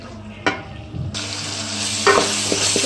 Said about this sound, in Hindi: आंच को तेज़ करके थोड़ा सा तेज़ हम इसकी भुनाई करेंगे।